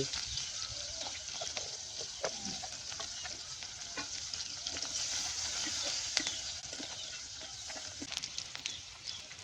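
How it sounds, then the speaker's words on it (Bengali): Onions and green chillies frying in oil in a village kitchen, a steady close hiss and sizzle with occasional scraping stirs throughout, roosters and farm fowl faint in the background. "ওই তেলে পেঁয়াজ আর কাঁচামরিচ দিয়ে আগে চলাইছি"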